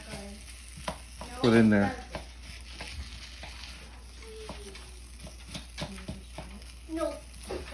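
Rice being dropped into hot oil and broken up for pork fried rice, a steady sizzle with scraping and stirring sounds throughout, one louder clattering burst early on, and a person talking briefly over it.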